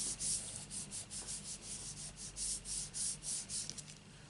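A rubber stamp rubbed back and forth on a card in papercraft makes a soft, close, rhythmic scuffing of about two strokes per second. It is quiet, with no voices.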